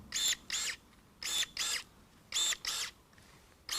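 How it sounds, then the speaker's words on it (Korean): Pruning shears snip the stem of an apple jujube seedling outdoors, six sharp close cuts arriving in pairs with brief pauses between them. "제가 대신 전정가위로 이거를 잘랐습니다"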